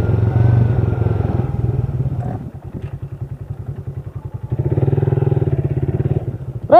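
A motorcycle engine idles steadily close by, its low pulsing throb continuous throughout and briefly swelling louder near the end, with no talk over it.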